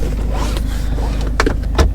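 The electric handbrake of a Peugeot 3008 releases with a short motorized whir, followed by a couple of sharp mechanical clicks inside the car, heard close over a low steady engine hum.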